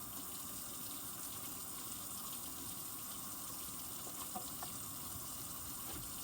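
Tap water runs steadily into a kitchen sink while pet dishes are washed, a faint continuous gushing hiss with a few soft clinks near the end.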